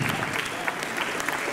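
Applause from the audience at a poultry show award ceremony in Albelda de Iregua, a steady wash of many hands clapping together at moderate volume, with a faint hint of voices beneath it.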